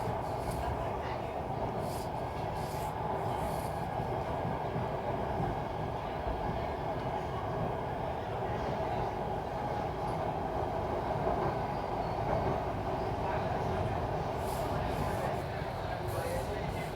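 A Mumbai Metro Red Line train runs with a continuous, steady rumble and rolling wheel noise from inside the car, holding at an even level throughout.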